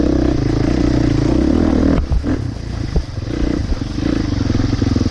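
A KTM 350 SX-F dirt bike rides through narrow woods trails, its engine droning loudly and close, then dipping with clattering bumps and scrapes before it revs back up.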